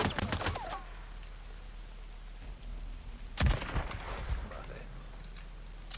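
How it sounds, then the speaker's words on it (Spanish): Shotgun blasts ring out in the open-world game Days Gone: an early burst, then a loud crack partway through, over a low rumbling backdrop while someone speaks briefly. "Tres disparos, ¿eh? De la tocha, no del rifle, ¿eh?"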